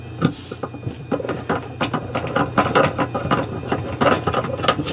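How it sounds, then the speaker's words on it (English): A hand nut driver turns a screw into a dishwasher, giving a rapid series of close, crisp ratcheting clicks in uneven bursts. "I'm going to get my nut driver. I'm going to get it started."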